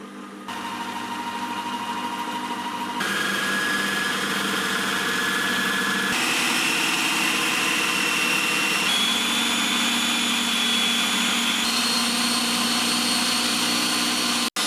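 The motor of a Lidl Silvercrest Monsieur Cuisine Smart SKMS 1200 A1 food processor runs loudly and steadily on its own, its whine stepping up in pitch several times as the speed is raised.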